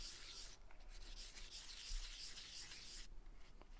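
Soft, steady rubbing of sandpaper worked by hand over a restored ball-peen hammer's metal head, in faint continuous strokes with a brief pause near the end, quiet and close with no talking.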